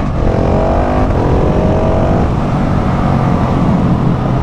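A KTM SMC-R 690 supermoto motorcycle engine revs loudly and steadily as the bike is ridden, with rising pitch sweeps and continuous wind and road roar throughout.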